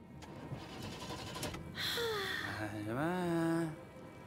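Car engine starting in the video game Last Day of June: a starter cranks briefly, then the engine catches and revs upward with rising tones before settling, clear and close, with some voice present.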